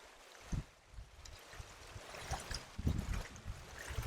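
A mountain stream near a Kashmir base camp at Lidderwat burbles and trickles in the background, with soft irregular water sounds and occasional louder thumps or movements nearby.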